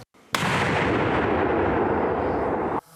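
One sudden, loud artillery blast erupts, followed by a long, dense roar and rumble that sustains for a couple of seconds before cutting off.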